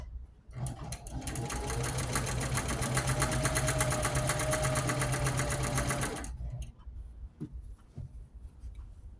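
A sewing machine runs steadily through a quilt in one continuous burst of rapid, even stitching for about six seconds, close and clear, then stops, leaving a few faint handling clicks.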